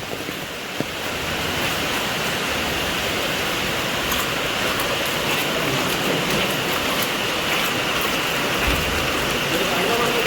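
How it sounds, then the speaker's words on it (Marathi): Heavy monsoon rain falls without pause over a residential society with waterlogged roads, a loud unbroken rushing hiss filling the whole stretch, close and even. "पण पाऊस काय थांबत नाही आहे"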